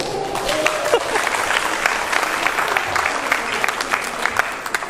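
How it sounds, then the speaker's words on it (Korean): A lecture audience at a liquor expo claps steadily for several seconds, a dense wash of hand claps with a few voices murmuring underneath. "박수 한번 쳐주세요."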